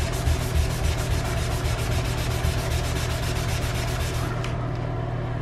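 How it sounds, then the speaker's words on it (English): Steady, fast hand scrubbing on an old porcelain bathtub makes a continuous rhythmic scratchy rubbing, close and loud, easing off just before the end. "So let's get scrubbing"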